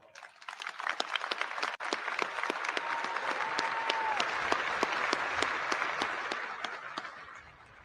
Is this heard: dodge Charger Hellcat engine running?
no